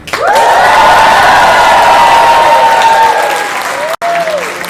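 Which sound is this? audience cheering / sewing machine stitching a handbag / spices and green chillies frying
audience cheering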